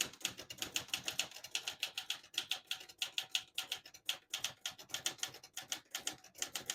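A 1974 Olivetti Underwood 315 portable typewriter is typed on at a brisk, steady pace, a close run of crisp mechanical key strikes clacking in quick rhythmic bursts with no talk.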